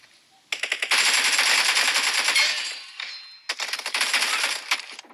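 Rapid bursts of automatic gunfire in the mobile battle royale game BGMI, loud and close, with a couple of sharp volleys separated by a brief pause and trailing shots at the end.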